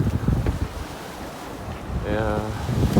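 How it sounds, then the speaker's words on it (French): Strong wind roars across the microphone aboard a sailboat at sea in heavy swell with winds near 20 knots, with continuous gusty rushing and water wash throughout and no speech. "Il y a encore beaucoup de houle et on a 20 nœuds de vent."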